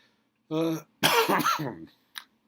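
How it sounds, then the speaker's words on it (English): A short vocal burst followed by a longer, rough coughing fit, then a quick final cough, close to the listener. "Excuse me for coughing"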